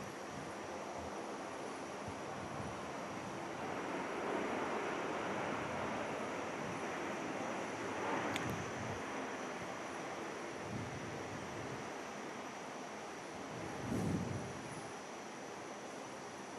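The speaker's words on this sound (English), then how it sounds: "there's our Qantas Link touchdown there" A Qantas Link airliner touches down at Perth airport, heard as a steady, distant broadband roar that swells briefly near the end, with no voices.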